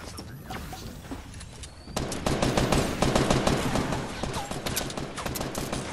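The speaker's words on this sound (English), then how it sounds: "He's shooting at me" Rapid bursts of automatic gunfire in a Fortnite match, close and loud, with dense overlapping shots that grow heavier after the first couple of seconds, crackling over the game's background noise.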